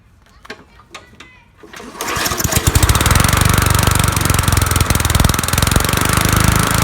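Murray lawnmower with a Briggs Classic 3.75 hp engine: a few pull-cord tugs, then the small engine catches and runs with a loud, steady rapid putter close by.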